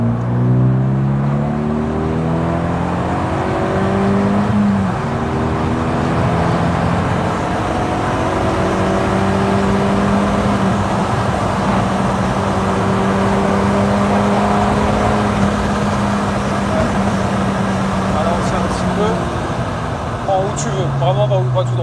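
A 290 hp Renault Megane 2 RS accelerates under steady, loud engine drone with rising harmonic tones, heard continuously from inside the car while people talk over it.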